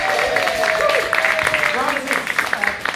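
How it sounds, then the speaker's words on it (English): Indoor audience at a museum event giving a round of applause, soft steady clapping under a speaking voice, moderate and close. "let's give him a round of applause"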